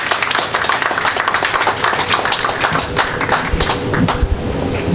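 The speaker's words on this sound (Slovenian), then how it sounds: "Tako da en aplavz, ne meni, ampak celotni ekipi in BTC-u." Crowd of people at the opening of an art expo in Slovenia clapping together in a steady, dense round of applause, close and lively throughout.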